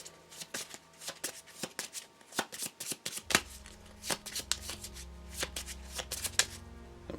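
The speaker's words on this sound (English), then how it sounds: "before I continue shuffling" Playing cards shuffled repeatedly at a tabletop during a Marvel Champions card game, a quick run of crisp riffling flicks close to the mic, with a low steady hum entering partway through.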